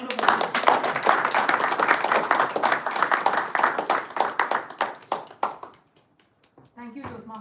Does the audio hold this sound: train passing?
no